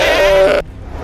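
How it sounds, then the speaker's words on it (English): A Minecraft goat's death sound: a single short, loud bleat-like cry with a steady tonal wail that breaks off sharply after about half a second, followed by near silence. "This is a goat death."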